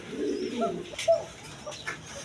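Two pairs of big pigeons coo softly in short, rounded calls, fairly faint and close, with a few sharper chirps mixed in.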